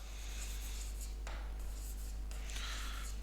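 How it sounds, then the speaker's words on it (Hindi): Chalk writing on a classroom board during an English grammar lesson, with continuous scratchy strokes and faint taps, close over a steady low electrical hum, with no speech. "जैसे एक क्वेश्चन और लिख रहा हूं मैं"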